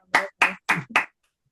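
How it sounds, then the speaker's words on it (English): Four slow, distinct hand claps ring out close to the microphone in an even rhythm, each separated by a short silence. "take a minute to give a round of applause for Tina"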